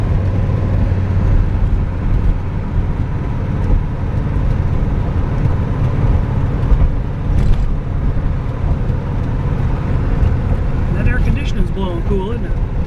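A 1971 Corvette big block driving on the road, heard from inside as a steady loud rumble of engine and road noise throughout, with a brief higher whine near the end.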